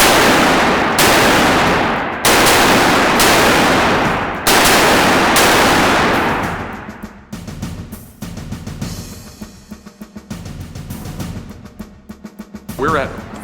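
Machine guns firing blanks on a film set during a big action scene: loud sustained bursts of rapid automatic fire in long runs broken by brief pauses, then fading into scattered shots and echoing clatter.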